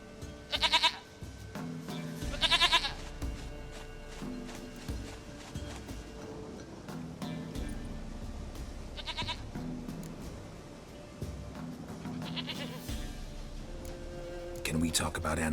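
A goat in The Witcher 3 bleats repeatedly, about four wavering cries spaced several seconds apart, over a low droning game ambience with soft footsteps.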